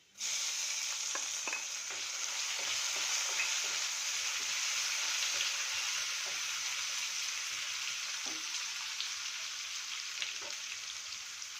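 A tomato fries in a pan for Gujarati dal dhokli, a steady frying sizzle, continuous and even throughout, with occasional small pops and crackles.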